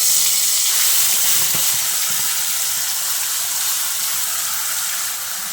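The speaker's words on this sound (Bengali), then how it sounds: "ওই কড়াইয়ের মধ্যে যে তেল আর ফোড়নটা রয়েছে তার মধ্যে আমি বেটে নেওয়া মশলাটা দিয়ে দিচ্ছি" Ground spice paste dropped into hot oil with tempering in a kadai, a bright continuous sizzle and hiss that stays strong and slowly eases off, with no talk over it.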